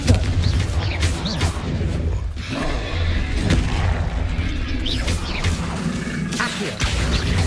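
Confringo fire-blast spells from Hogwarts Legacy thud and boom repeatedly in a busy duel, loud blasts and whooshes arriving every second or so, piling into a dense, continuous stretch of combat impacts.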